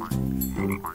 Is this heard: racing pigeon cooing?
no